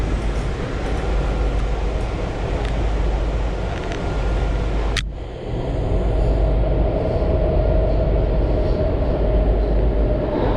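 Metro train riding between Silver Spring, Maryland and NoMa-Gallaudet station, with a steady loud rumble of wheels and car noise throughout and a brief sharp screech or dip midway before the roar resumes.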